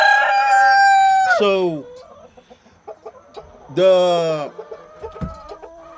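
Chickens from a Cornish cross and American Bresse mix flock, with a loud, close rooster-like crowing call, then scattered clucks, and a second long crowing call, while a person briefly speaks.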